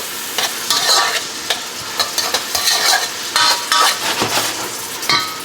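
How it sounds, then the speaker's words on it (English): Onions cooking down in a pan for a pulled pork Mexican lasagna, loud close sizzling broken by repeated scraping stir strokes and utensil clatter, with no voices. "And now as you're cooking your onion down"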